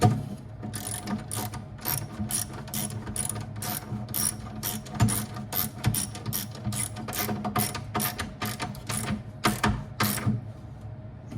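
A hand ratchet tightens a bolt fastened with a collared washer inside a pinball machine coin door, giving rapid, close, steady runs of clicking pawl ticks throughout.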